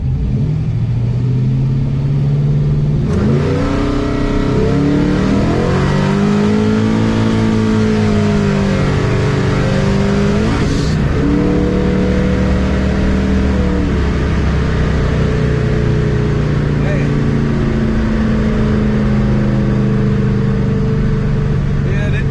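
The LS-swapped S10 pickup with brown-coat paint and a fried transmission revs loud and close, its engine pitch climbing, holding and falling in long sustained surges during a burnout attempt.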